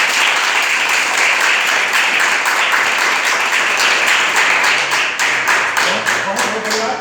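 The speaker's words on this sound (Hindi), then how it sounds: "ये पूरा हाथ तालियों की गड़गड़ाहट से गूंजना चाहिए" A hall full of people at a Women's Day event in Hanumanth Nagar, Bengaluru, breaking into loud, dense, sustained applause for the women present, with some voices emerging toward the end.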